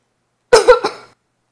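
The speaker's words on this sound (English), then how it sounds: "I'm just coughing a bit." A person who is feeling sick gives a short, close cough of two or three quick bursts in an otherwise quiet moment.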